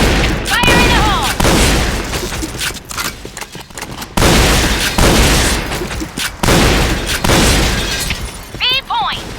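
Grenade explosions and bursts of gunfire from the Point Blank video game crash loudly in repeated volleys, with short gaps between blasts and a voice briefly heard.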